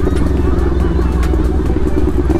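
Motorcycle engine running steadily under load while climbing a steep, slippery mountain trail on Mt. Gulugod Baboy in Batangas, Philippines; the heavily laden bike has rounded tires. Constant low rumble throughout, with people talking nearby.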